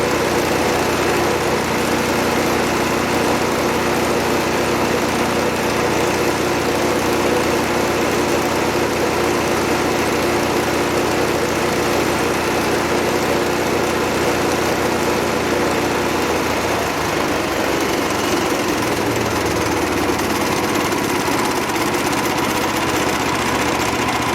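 A DC 1260 machine runs at full RPM after a belt change, giving a loud, continuous engine-like drone that holds steady throughout with a slight shift in tone near the end.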